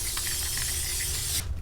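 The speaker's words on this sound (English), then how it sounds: "lightly spray it with some more oil" Oil is sprayed lightly onto a baking tray in a kitchen, a short continuous pressurized hiss from a spray can lasting over a second before stopping, close and alone.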